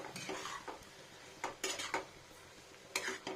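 A utensil stirs fried onion and garlic in a pan, making quiet, irregular scraping clinks over a faint sizzle, with a few sharper strokes toward the end.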